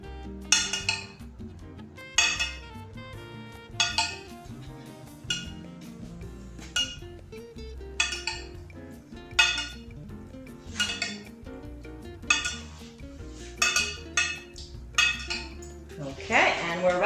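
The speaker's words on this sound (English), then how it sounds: "I'm going to take my marinade and again put a little bit more over each piece." Spoonfuls of smoky maple marinade go over pieces of tofu in a baking dish, with repeated clinks of a metal spoon on the dish, about once a second, against a musical background.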